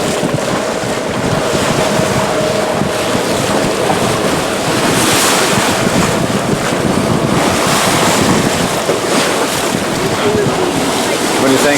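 Ocean waves and gusting wind out at sea, steady and loud throughout with heavy wind buffeting on the microphone, as if recorded from a boat in open water.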